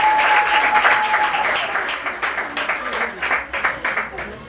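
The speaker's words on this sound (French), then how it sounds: "Sous vos applaudissements s'il vous plaît." Audience applause welcomes dance contest candidates at a high school youth challenge, dense clapping that turns into rhythmic beats, with a brief tone and voices underneath.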